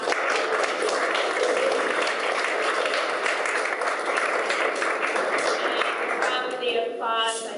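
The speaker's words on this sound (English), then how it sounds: "The applause" Audience at a university writing concentrators' event applauds steadily in a hall, a dense wash of clapping that holds for several seconds with a few voices mixed in near the end.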